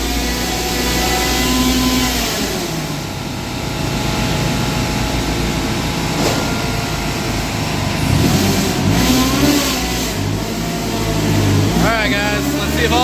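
A supercharged 198k-mile Toyota Celica ST204 5S-FE engine fitted with an AMR500 supercharger revs hard on a dyno, rising and falling through several loud pulls with a steady mechanical drone and supercharger whine.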